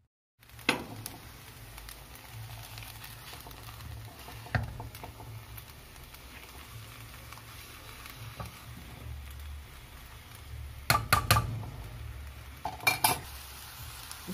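Coxinha dough of mashed potatoes is stirred in a pot with a utensil, giving soft continuous scraping and stirring under a quiet background, then a few sharp metallic clinks against the pot near the end.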